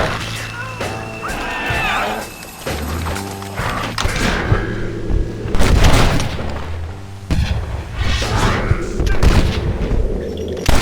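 Gunfire crackles through a battle in Red Dead Redemption: Undead Nightmare, with loud repeated shots and booming bursts amid creaking mechanical clatter and scattered voices.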